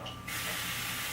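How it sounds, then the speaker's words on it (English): Cooking spray sprayed onto a baking pan gives a steady close hiss that starts after a short quiet moment and continues to the end. "Next, we need to prepare the pan by spraying it with cooking spray."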